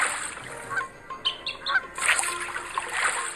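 Cartoonish duck calls from a mobile video game play as short chirpy squawks over a bright, hissy game soundtrack, fairly faint with no talking.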